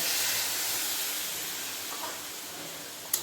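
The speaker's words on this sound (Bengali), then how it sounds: "এর মধ্যে দিয়ে দেবো আগে একটু জল" Water poured into a pan of fried ivy gourd, potato and melted tomato hisses into a loud steamy sizzle that slowly dies down, with a small clink near the end.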